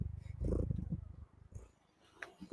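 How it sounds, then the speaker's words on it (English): A mother cat purrs with her kitten, a low rumbling purr that runs steadily near the mic for the first second and a half, then fades to softer sounds. "listen to that purr"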